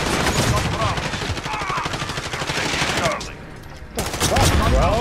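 Rapid automatic gunfire in Call of Duty Modern Warfare, a dense, loud stream of shots that breaks off briefly near the end and then resumes.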